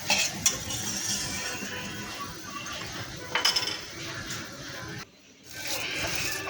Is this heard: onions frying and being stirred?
yes